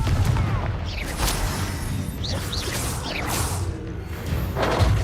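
Explosive Confringo spell cast in Hogwarts Legacy during a fight, with several thumping blasts and whooshing magic bursts layered over continuous busy combat noise.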